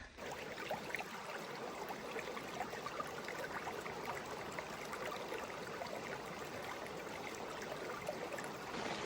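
Stream water flowing steadily on a Big Sur hike near Cone Peak, a soft, continuous broadband rush and trickle, faint and unbroken throughout with no voices.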